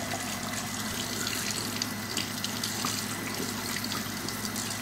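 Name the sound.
running tap water while rinsing mouth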